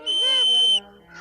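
A single clear, high magic whistle is blown in a Smurfs cartoon for a little under a second, bright and piercing with a slight wavering pitch, then stops abruptly.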